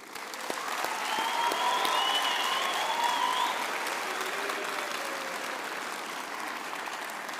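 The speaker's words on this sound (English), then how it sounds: "I would also like to ask our graduates to applaud their families, friends, partners, and so forth for their support over the years" Graduates at a university graduation ceremony applaud their families and friends, a broad, even wash of clapping from a large hall audience that swells and then holds steady.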